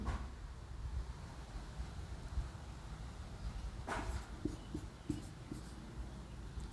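Quiet scratching of a pen on paper while Hindi shorthand is written, faint and steady against soft background hiss, with a few light clicks and strokes near the end.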